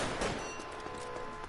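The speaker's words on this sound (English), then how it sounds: "Sounds like you got shot again." Gunshots in the video game L.A. Noire, a brief burst of rapid shots, the first loudest, then a quieter crackle of further fire.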